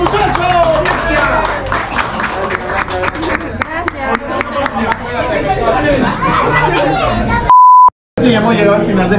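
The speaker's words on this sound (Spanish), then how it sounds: "¡Un aplauso, muchachos!" A group claps and cheers at a burger restaurant's opening, with loud irregular clapping mixed with lively chatter. A short censor-style beep and a brief silent gap break in near the end.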